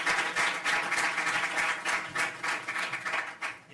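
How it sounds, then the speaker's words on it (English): Applause from a summit audience for a panel, a steady wash of many hands clapping with pulsing swells, fairly close and continuing throughout with no talking. "everybody a round of applause for the panel"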